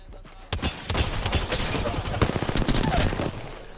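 Rapid bursts of gunfire in Apex Legends Arena, dense overlapping shots and impacts crackling loudly and nearly continuously for several seconds after a brief quiet start.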